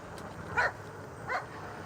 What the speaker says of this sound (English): Dogs see you, they always have to bark at you.